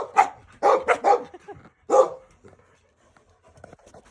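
A puppy and other dogs play, giving a burst of several sharp barks and yips close by, then a quieter stretch of panting, whimpers and scuffling.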